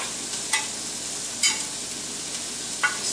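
Brussels sprouts sizzle steadily in browning butter in a pan, a soft continuous fry broken by a few brief scraping stir sounds, close and fairly quiet, with no talking.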